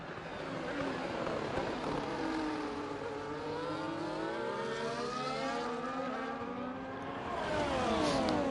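A Williams Formula 1 car in F1 24 screams at top speed with DRS open, a sustained high-pitched engine whine with shifting harmonics, loud and continuous throughout.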